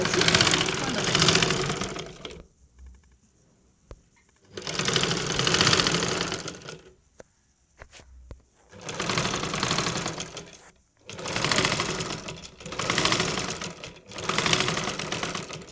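Sewing machine running in bursts while stitching thread piping onto a garment neckline cut from canvas, with four or five loud stretches of steady whirring separated by short pauses.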